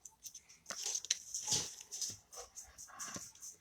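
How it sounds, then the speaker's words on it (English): Several neighborhood dogs outdoors, somewhere off in the distance, giving faint, scattered yips and whimpery barks in short bursts over a steady hiss. "I can hear all my neighbor dogs."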